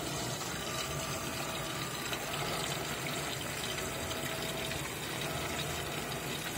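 An Electrolux 17 kg top-load washing machine fills with water and begins agitating a blanket, giving a steady, faint rushing flow of water with a low churning rumble underneath, continuous and even, with no talking.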